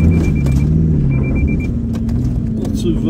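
A car engine labours and revs in low range on an off-road desert track toward Poeppel Corner, a loud, continuous rumbling drone whose pitch rises and dips as the vehicle climbs.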